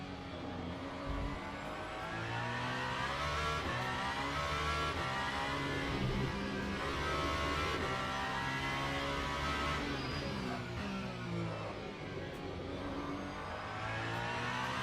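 A race car engine in Le Mans Ultimate at Interlagos drones steadily at high revs for the whole stretch, loud and continuous, with gentle rises and dips in pitch as the car laps.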